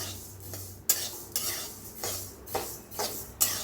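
Flax seeds dry-roasting in a pan for chutney, crackling and popping while a spoon sweeps and scrapes them around in rhythmic strokes, several loud scraping bursts about every half second, close up and without voices.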